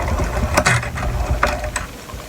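Rollers of a hand-cranked embossing machine turning with an embossing folder, giving a close, steady mechanical rumble with scattered sharp clicks and ratchet-like ticks.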